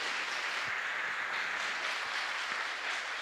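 A church congregation claps together in a dense, even wash of applause that holds steady and fairly loud throughout, with no clear speech on top.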